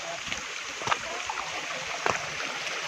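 Spring water trickling down from above at a mountain water point on a monsoon trek, a steady soft flowing wash with a few light splashes, fairly close and without talk.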